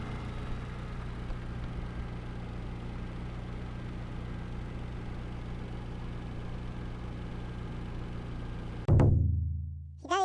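A Mitsubishi Lancer EX Turbo engine with an aftermarket exhaust idles steadily with a low, rumbling exhaust drone, then a sudden thump and mechanical whir as it cuts off near the end.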